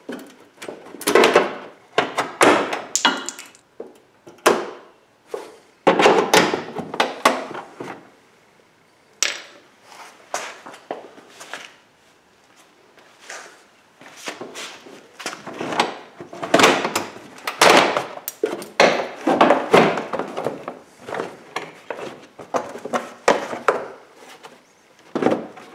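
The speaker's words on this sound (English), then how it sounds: "if you have a claw hammer like this, it can sometimes be handy in getting these out" A claw hammer pries and knocks at a washer pump, producing irregular close clunks, scrapes and woody knocks in uneven bursts with brief pauses between efforts.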